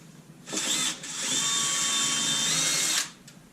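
A nylon brush spun by a power drill whirs across a snowboard base in one steady, loud, close burst of about two and a half seconds. It starts and stops abruptly, and no one speaks.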